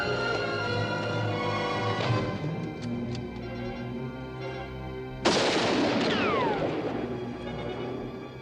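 Gunfire in a western film: a sudden sharp blast breaks through a steady background about halfway in, followed by a dense, noisy stretch of shots and ricochet-like whines.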